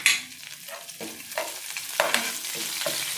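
Oil sizzles and crackles steadily in a pan as spices and chopped green chilies fry, with a few soft stirring scrapes over the frying.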